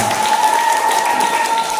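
Audience applause for the class 6 volleyball champions at a primary school closing ceremony, a steady dense wash of clapping throughout with a faint tone running underneath.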